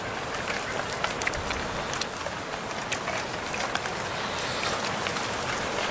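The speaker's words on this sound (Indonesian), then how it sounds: "Udah hujan ya?" Rain begins to fall outdoors as the sky darkens: a soft, steady hiss of drops with faint scattered ticks, fairly distant and quiet, with no voices.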